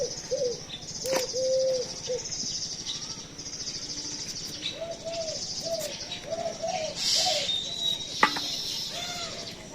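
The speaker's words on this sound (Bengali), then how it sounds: "ঘুঘু পাখি ডাকে" A dove calls close by in repeated soft coos across a quiet village yard, with a faint background hiss and a few sharp knocks.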